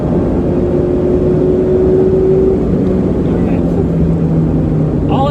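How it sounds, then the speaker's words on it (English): A 2018 Mazda Miata with an axle-back exhaust that is basically a muffler delete drones loudly at full throttle, a steady engine note that rises through the gears, with someone talking over it. "I'm full throttle right now."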